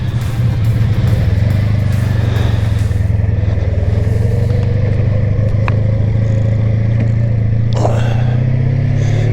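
Motorcycle engine running loudly up close, a steady low drone with a slight rise in pitch as it pulls away, plus a couple of brief clicks and clatters.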